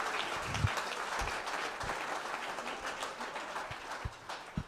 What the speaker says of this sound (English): Let's just have a round of applause for Rush,